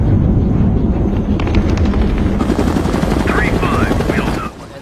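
A helicopter thunders overhead in a war scene, its heavy rotor chopping in dense rapid pulses, with short voice-like cries near the end.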